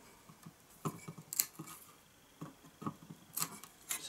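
Scissors snip through a worn cord on a Jonsered LM2146 lawn mower, a few quiet, sharp cuts and rubs spaced irregularly, close by with no talking.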